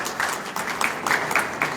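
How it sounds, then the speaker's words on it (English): Applause from a small audience at a City of Flint public input session, thanking the city's chief financial officer; moderate, fairly close clapping in uneven bursts. "Round of applause for our CFO."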